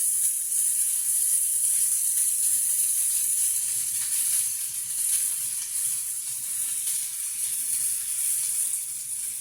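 Ocean trout searing in a frying pan gives a steady, bright sizzle with a high hiss that stays loud and close throughout, with no talk.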